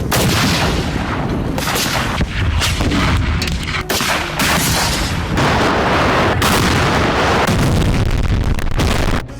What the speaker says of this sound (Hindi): दोनों ओर से जबरदस्त बमबारी हो रही है।